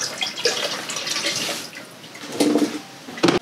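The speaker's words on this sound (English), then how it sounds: "Now I'll put this water back in here." Water poured back into a container during reverse tie-dye with bleach, a steady splashing pour through most of the clip with brief louder splashes near the end.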